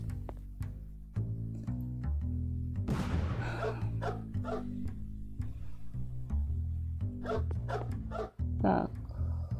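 A dog barks repeatedly in a trap-building video game, sharp yaps and yips recurring throughout with a whimper, mixed with steady game music and someone talking over it.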